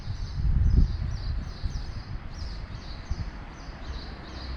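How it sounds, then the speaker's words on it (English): Faint, high chirps from birds singing outdoors near a beach, repeating every half second or so over a steady, rumbling wash of wind and surf. "Can y'all hear the birds?"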